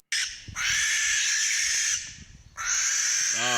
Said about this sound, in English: there's something about barn owls. Sound might arguably be the most unsettling.